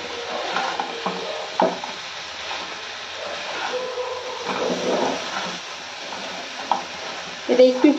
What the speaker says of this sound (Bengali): এটা একটু একটু কম কম জল দিয়ে দিয়ে কষাতে থাকবো আর ঢেকে দেবো।